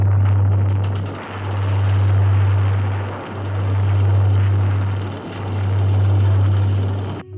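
Engine of a rice grain blower machine running during a palay harvest, a loud steady motor drone with a strong low hum that dips briefly in regular cycles, continuous and close with no talk.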